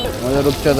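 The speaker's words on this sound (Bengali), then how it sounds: "মাছ ভাজা হচ্ছে" Fish frying at a shop, rupchanda (pomfret) being prepared as barbecue, giving a close, steady sizzle over a brief moment with a faint voice in the background.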